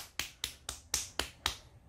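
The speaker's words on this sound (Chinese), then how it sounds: "拍拍手" Hands clap six times in an even rhythm, soft and close, each clap short and crisp, with quiet gaps between them.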